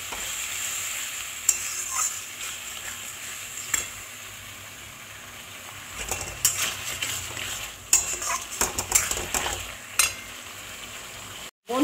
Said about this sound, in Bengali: অল্প অল্প জল দেবো আর কষাবো